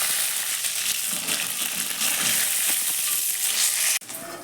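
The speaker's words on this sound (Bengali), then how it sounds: "দেখতে পাবেন কি আমার বাঁধাকপি দিয়ে কত সুন্দর একটা মুখরোচক জিনিস ভেজে যায়" Cabbage chop fritters fry in hot oil with a steady, dense sizzle and crackle throughout, ending in a brief clatter near the close.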